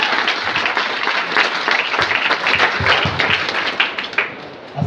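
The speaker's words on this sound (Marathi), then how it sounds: "एकदा जोरदार टाळ्या मित्रांनो, जोरदार" Loud, sustained audience applause fills a hall during a Marathi stage event, dense clapping rolling on without pause, with a few sharper claps standing out near the end.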